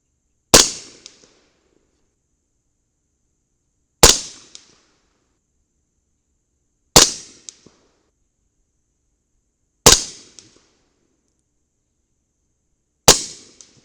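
Five sharp 300 Blackout rifle shots firing 240 grain Sierra Match King bullets over 12 grains of CFE Black from a 10.3-inch Ballistic Advantage Hanson barrel, evenly spaced about three seconds apart with short decays and silence between.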